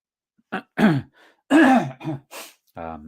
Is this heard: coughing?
yes